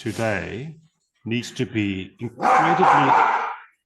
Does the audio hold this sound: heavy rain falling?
no